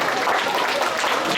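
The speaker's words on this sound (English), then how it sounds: "Can we clap for me?" An audience at a school orientation event claps steadily in a dense, continuous wash of applause, close and fairly loud throughout.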